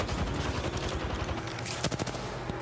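Rapid automatic gunfire and scattered single shots from an Apex Legends match during an ALGS EMEA esports tournament game, dense overlapping bursts at moderate level with no commentary heard.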